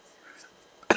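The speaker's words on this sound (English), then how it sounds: "That cough had nothing to do with the spiciness." After a near-silent stretch with faint breathy sounds, a single sharp, close cough bursts out at the end.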